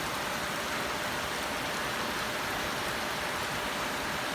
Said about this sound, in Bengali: দেখতে পাচ্ছেন কি মুষলধারে বৃষ্টি হচ্ছে।